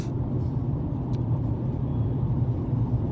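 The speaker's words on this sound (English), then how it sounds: "Do it in my car while I'm driving right now." Inside a car being driven, a steady, low engine and road rumble drones continuously with no one talking.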